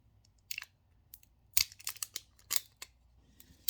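Plastic product packaging, a cream-like lotion, crinkled and crackled close up in short, irregular bursts with quiet pauses between, soft and intimate, no talking.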